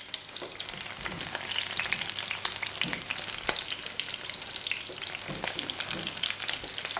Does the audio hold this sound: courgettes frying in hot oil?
yes